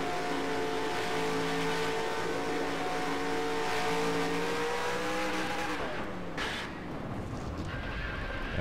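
Steady, droning race car engines from a NASCAR video game using a real-life engine sound pack, loud and continuous with harmonic whine, then a drop in pitch and a brief dip near the end.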